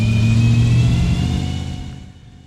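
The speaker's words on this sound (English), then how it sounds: "Here I've started the car and I'm letting it warm up a little bit before I go to back it out of the shop" A freshly started car engine idles inside a shop while warming up, a steady mid-frequency rumble with a whirring tone that is loud at first and then eases and fades toward the end.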